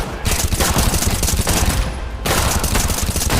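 Rapid automatic gunfire in the video game Battleglide, loud sustained bursts aimed at the Juggernaut, with a brief break midway before firing resumes.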